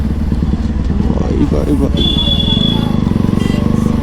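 Bajaj Pulsar NS200 motorcycle engine running steadily as it rides along a busy highway in traffic, a loud continuous drone with a brief high whine, while a man calls out over it.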